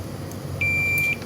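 Multimeter continuity buzzer sounding while a fuse on an air-conditioner inverter board is checked during repair: one short, steady, high-pitched beep lasting about half a second over faint background hum.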